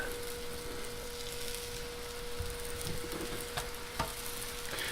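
Naan flatbread fries in butter in a fry pan with a faint, steady sizzle and a few soft clicks, quiet and close with no talking.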